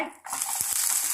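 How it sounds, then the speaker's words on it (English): A small onion sautés in a pan with chilies and oil, a brief burst of sizzling and stirring that rises sharply and holds a steady hiss. "1 small onion. Saute it."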